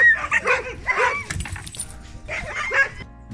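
Huskies bark and whine in bursts of yips and howl-like complaints, fairly close and loud, with brief pauses between.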